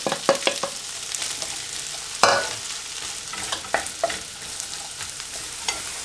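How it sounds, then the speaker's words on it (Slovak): Sliced rings of leek sizzle in butter in a small frying pan, with a steady crackling hiss broken by several sharp scrapes and clacks of a stirring utensil against the pan. "Pórik sme si nakrájali na kolieska a dáme ho teraz opražiť na panvičku s"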